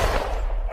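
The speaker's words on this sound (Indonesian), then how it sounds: "tiba-tiba terdengar suara tembakan." Gunfire in a tense scene from an Indian film: a short burst of shots with a booming low end, under a quiet background.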